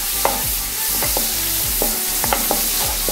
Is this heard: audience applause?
no